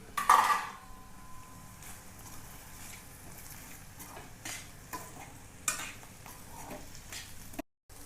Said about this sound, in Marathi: आपण आता यामध्ये हे जे मसाले भाजून ठेवले होते ते यामध्ये थोडे हलकेसे भाजून घेणार आहोत।